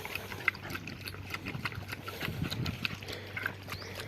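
An animal laps and slurps water from a container on a hot day, a soft irregular run of wet sips and trickles close by with small clattering knocks.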